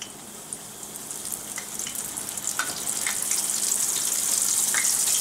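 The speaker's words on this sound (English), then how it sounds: "Okay, so my oil is nice and hot. We're ready to fry now." Pieces of dried, salted cod (baccalà) fry in hot oil, a steady crackling sizzle with scattered pops that builds gradually louder and denser over several seconds, heard close up with no talking.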